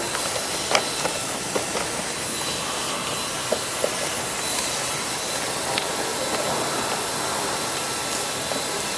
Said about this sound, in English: Ideally you want the heat gun with a flat nozzle like that, so you can just slide underneath, get the heat on the back.